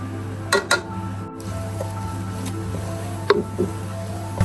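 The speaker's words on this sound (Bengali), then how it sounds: "তিরিশ সেকেন্ড মতো নেড়ে নিলাম সব মশলা" Panch phoron spices and dried chilli stems are stirred in a pan for a tamarind and jujube pickle, with a few soft scrapes and light clinks over a steady low kitchen hum.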